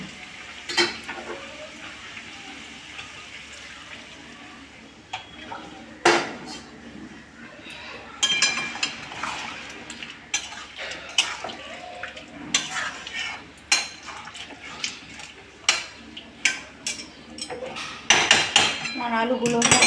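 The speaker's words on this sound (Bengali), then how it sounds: "এবার আমি এর মধ্যে আলুগুলো দিয়ে আরেকটু ভালো করে কষাবো" Potatoes and liver are stir-fried in a pot, with metal utensils clattering and scraping in irregular bursts that grow busier toward the end, over a faint sizzle.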